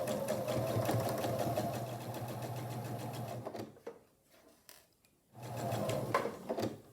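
Sewing machine stitching quilt block seams with a leader fabric, running steadily for several seconds, pausing briefly, then starting up again, close and fairly loud with no talking.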